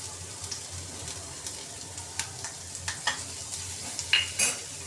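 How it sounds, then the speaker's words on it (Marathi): Carrots with garlic and coriander stems sauté in ghee in a pan, making a soft, steady sizzle broken by frequent sharp clicks and scrapes from stirring. No one talks. "चांगले परतून घेऊया तुपामध्ये"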